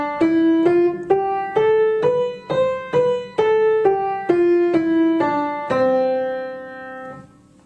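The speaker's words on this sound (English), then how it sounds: "So there's your major scale." A piano plays a major scale, a rising then falling sequence of single notes, one per beat, ending on a sustained low note that fades out.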